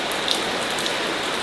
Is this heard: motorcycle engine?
no